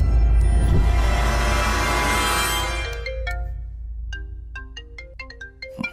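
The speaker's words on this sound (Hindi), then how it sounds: "केपी का फोन है, उठाओ ना।" A mobile phone ringtone rings loudly and alone, a bright melodic electronic tune with repeated chiming notes, following a rushing swell of noise at the start.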